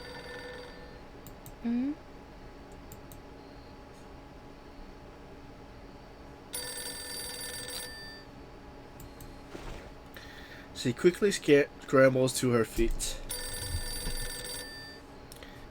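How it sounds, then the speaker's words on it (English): A telephone bell rings in Reverse: 1999, two separate bursts of ringing over a quiet ambient backdrop, with a narrator speaking and other game sounds around them. "It's the telephone ringing."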